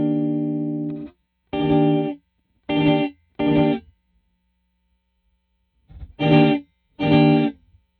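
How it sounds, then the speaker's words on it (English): Guitar notes run through a Red Panda Context V2 reverb pedal set to reverse reverb come in separate swelling bursts: one long tone, then three short ones, then two more after a silent gap. They sound loud and close, with no talking. "Yeah, now you're starting to get that reverse, eh?"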